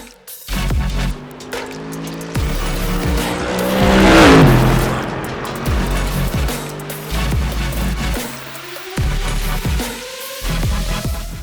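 Mercedes-AMG GT3 Evo race car lapping Fuji in the iRacing sim, its engine revving up and down through gear changes with a rising whine near the middle and brief tire squeal, loud and continuous throughout.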